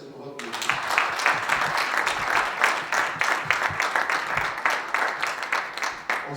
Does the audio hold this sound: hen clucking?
no